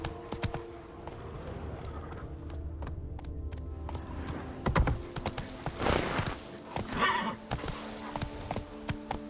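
A horse gallops in The Witcher 3: Wild Hunt, Blood and Wine. Fairly faint rhythmic hoofbeats run with clinking tack and a whinny, amid game background sounds.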